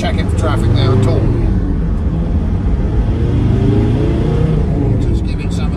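Mercedes 310d van with a turbo diesel engine, found abandoned in a hedgerow, driving a rough cross-country route and accelerating, its engine rumbling loud and steady throughout.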